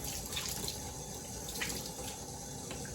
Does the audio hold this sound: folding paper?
no